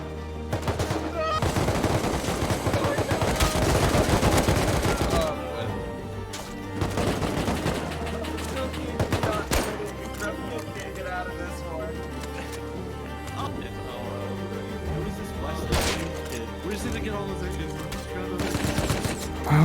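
Gunfire in the video game Rust rattles in dense bursts and single cracks during a base raid, loud and close, with several volleys spread through the stretch.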